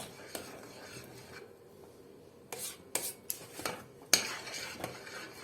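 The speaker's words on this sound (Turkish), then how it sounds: "Tabii karıştırmaya devam ediyoruz." A spoon scrapes and stirs boiling milk around a pot in irregular strokes, with faint bubbling and clinks against the metal.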